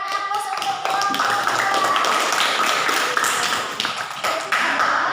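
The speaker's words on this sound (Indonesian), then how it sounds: "Berikan aplaus untuk kelompok" A class claps for a student group in the classroom, with brisk, fairly loud applause lasting several seconds and scattered sharp claps over a steady roomy wash.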